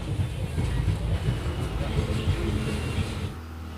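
Train at Guwahati railway station, a steady close rumble and rolling roar with a low drone, fading and thinning near the end.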